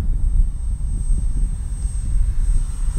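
An FMS J-3 Cub RC model plane at about half throttle passes low and slow overhead, its small engine a steady, fairly loud drone throughout with no talk.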